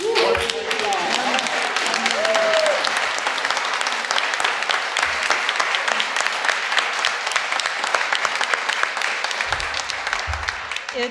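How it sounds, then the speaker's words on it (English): A local candidates night audience applauds steadily for about eleven seconds, dense and fairly loud, with a few voices briefly rising over the clapping near the start. "Very special applause for Liz"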